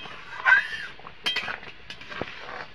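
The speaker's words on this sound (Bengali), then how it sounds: "টমেটো সসটা এভাবে নাড়িয়ে রাখতে হবে যাতে কড়াইতে লেগে না যায়।" A metal spatula scrapes and clinks against a wok while stirring tomato sauce, in short, irregular strokes, close up, with quiet pauses between the stirs.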